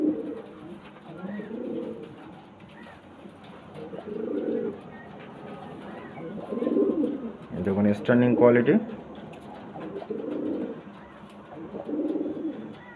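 A pair of pigeons being shown for sale coo in soft rhythmic phrases nearby, repeating every couple of seconds, with someone speaking briefly over them midway.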